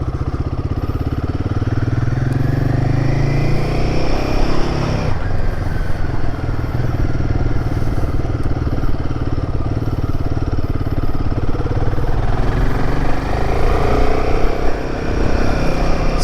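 Royal Enfield Himalayan 450 motorcycle being ridden, its steady engine drone and road rumble continuous and close throughout, with a brief dip partway through and no talking over it.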